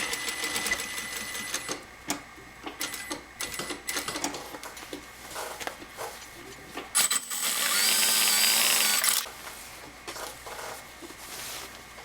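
Sewing machine stitching a French seam on a side seam pocket: short bursts of stitching with pauses and handling noises, then one long steady run of close, loud machine whirring lasting about two seconds before easing off.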